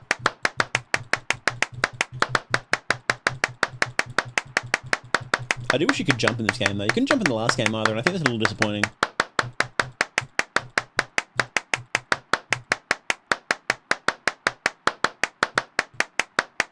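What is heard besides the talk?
clapping sounds in the video game Clapism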